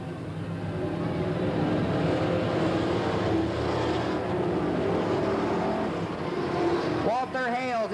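Race cars racing at Willamette Speedway in 1989, engines roaring steadily as the cars run side by side through the turns, loud and continuous, with a louder car sweeping past near the end and an announcer talking over the noise.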